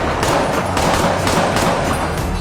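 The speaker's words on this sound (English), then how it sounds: "a gunshot suddenly rang out" Gunfire rings out in a tense movie scene, sharp cracking reports over a dense, loud, noisy background that stays busy throughout with no clear isolated single shot.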